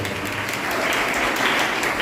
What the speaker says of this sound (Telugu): గట్టిగా చప్పట్లు కొట్టాలి అందరూ కూడా.